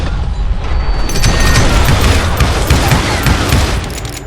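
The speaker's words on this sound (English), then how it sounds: "He was shooting at me from a rooftop." Gunfire from Billy the Kid shooting down from a rooftop in Call of Juarez: Gunslinger, a loud, dense, continuous barrage of booming shots and crashes that fills the whole clip with no pauses.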